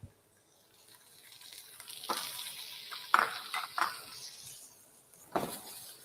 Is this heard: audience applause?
no